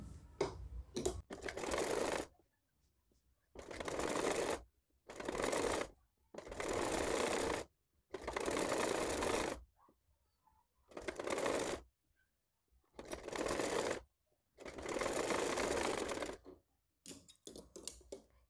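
A sewing machine stitches along a joint on a girl's yellow dress, running in repeated bursts of rapid whirring a second or two long, separated by short silences, close and clear with no talk.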